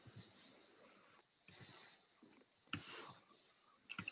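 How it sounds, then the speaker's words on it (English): Keyboard typing during a Python coding session comes in short quiet bursts of clicking keys separated by pauses, close and soft against a faint room hiss. "Sorry for all the typing."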